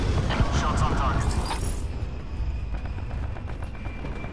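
Gunshots striking targets in a military video game, a dense roar of rapid blasts in the first second and a half, then a steady rumble with scattered faint shots continuing to the end.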